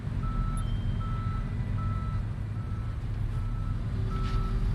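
A tow truck in Police Simulator: Patrol Officers backs up with its reversing alarm, a steady series of evenly spaced beeps over a low rumbling engine idle, no talking.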